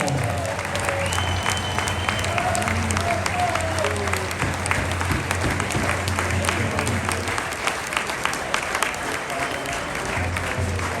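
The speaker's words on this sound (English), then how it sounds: "A big round of applause for Daryl Powell" An audience applauds Daryl Powell at after-match celebrations and speeches, a sustained, even roar of clapping lasting throughout, with a few voices faintly audible beneath it.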